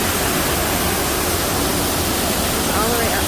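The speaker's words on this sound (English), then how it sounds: "So this is the lower end of the waterfall" Steady, loud rushing of falling water at the lower end of a waterfall fills the air, a constant broadband roar with no pauses.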